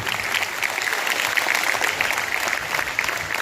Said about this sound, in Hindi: आपके ओजस्वी वक्तव्य के सामने इन बच्चों की तालियां बहुत धीरे थी